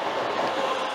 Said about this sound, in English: as the intermodal continues.